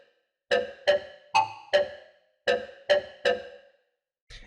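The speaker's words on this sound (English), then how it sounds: "Lead Put a Ring on It is a ring modulated sound which sounds like this." A ring-modulated synth lead preset from an STMPD-style sample pack plays seven short, bright, metallic stabs in an uneven rhythm, loud and close, with no voice.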